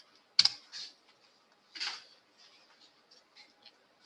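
Light clicks of a computer keyboard during a spreadsheet lesson, with a sharp key press near the start and a firmer press about two seconds in, then soft scattered taps, close and quiet.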